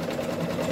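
An embroidery machine sews a satin stitch, giving a fast, steady mechanical chatter with a regular pulsing rhythm, loud and close.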